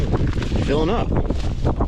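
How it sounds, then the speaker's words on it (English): Strong wind gusts roar and buffet the microphone outdoors among trees during a maple syrup harvest, a steady low rumble with a brief voice-like tone partway through. "It's really windy. Blowing right now."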